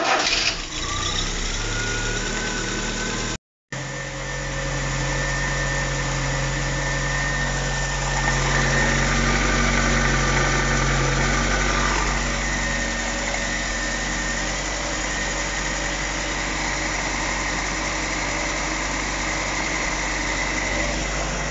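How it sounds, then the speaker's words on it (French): An Audi 80 engine idles steadily on the choke after carburetor repair, a constant close, loud running hum with a brief dropout early on and no talking. "On a un bon ralenti au starter."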